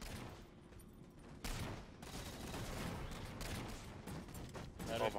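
Gunfire in the Halo: The Master Chief Collection video game, a dense run of rapid shots and bursts at moderate loudness, continuous over several seconds with some mechanical clatter.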